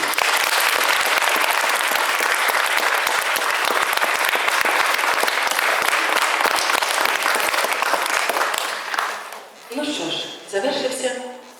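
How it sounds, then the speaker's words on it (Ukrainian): A crowd claps steadily for several seconds at a school concert in Lviv, then the clapping fades as a voice begins speaking. "Ці оплески для вас, дорогі батьки"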